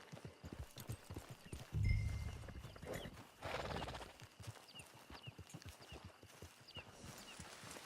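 Horse hooves clip-clop at a walking pace in the Red Dead Online video game, with a steady rhythm of close hoofbeats and a couple of louder bursts, no talking.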